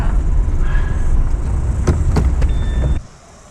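A car is parked on a road trip along New Zealand's East Cape. The engine rumbles steadily, with a few mechanical clicks and a brief whirring near the end, then it cuts off abruptly and only faint quiet remains.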